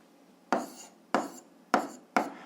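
Four separate scratchy strokes are written one after another, evenly spaced, as an algebra expression goes down in a seventh-grade math lesson; each stroke is close and brief with quiet between.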